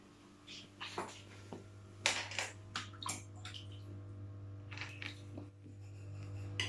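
A kitten splashes in a bathtub of water, making soft irregular sloshes and drips over a low steady hum. The sound is quiet and close, with no clear talk.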